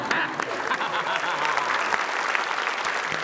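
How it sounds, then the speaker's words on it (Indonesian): Steady applause from a quiz show audience, dense clapping that holds at an even level throughout, with voices mixed faintly into it. "Beri tepuk tangan"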